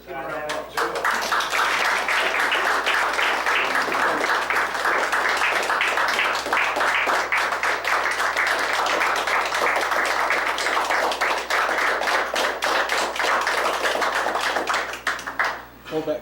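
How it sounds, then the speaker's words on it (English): A ceremony crowd gives a long, steady round of applause for Chief Martin, dense rapid clapping held at a constant level, with a low hum beneath and faint voices mixed in. "Give him a round of applause."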